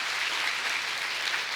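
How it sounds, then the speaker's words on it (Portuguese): A church audience claps together in a soft, steady wash of applause, heard from some distance with an even level throughout. "Eu queria que você aplaudisse para a vida da Ana"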